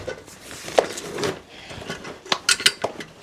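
Pots, pans and small metal basins clatter and clink as they are sorted and stacked while packing, with a run of sharp metallic knocks near the end; no talk.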